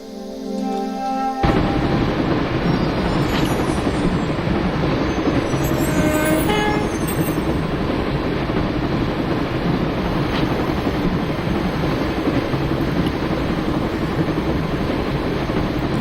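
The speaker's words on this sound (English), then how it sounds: "I always wanted to stop the train" A train in the Broken Sword video game rumbles loudly and continuously, a dense steady roar with faint squeals and clanks above it, after a brief quieter opening.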